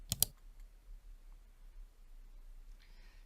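A single computer mouse click, crisp and close, followed by faint room hiss and a brief soft high rustle near the end.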